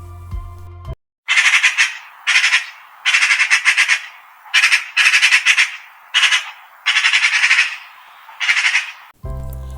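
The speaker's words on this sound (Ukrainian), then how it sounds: "Вірно, дітки, це сорока." A magpie chatters in harsh, rattling bursts, about eight loud close squawking runs separated by short pauses, heard alone.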